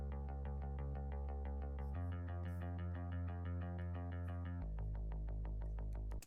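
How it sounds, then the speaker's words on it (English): A phaser bass layered with a synth bass plays a repeating sustained bass line that shifts pitch twice, with steady rhythmic plucked notes above it and a brief drop at the very end. "So I'll layer that with the synth bass,"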